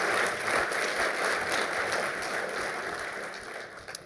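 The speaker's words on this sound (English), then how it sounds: "just a round of applause for the panelists, please" A conference audience applauds the panelists at a showcase session on AI risk, a steady, dense wash of many hands clapping that carries on for several seconds, moderately distant in the room, fading slightly near the end with no voices over it.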